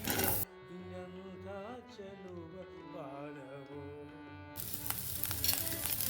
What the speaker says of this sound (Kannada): ಮತ್ತು ಇವಾಗ ಈರುಳ್ಳಿ ಹಾಕೋತಾ ಇದ್ದೀನಿ.